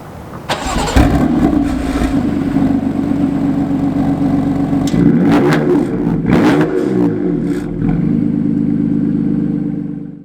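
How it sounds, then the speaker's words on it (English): A BMW M4 twin-turbo engine cranks and fires, settles into a rumbling idle, then gives a few sharp revs before dropping back to idle, loud and close with no talking. "Let's take it for a drive."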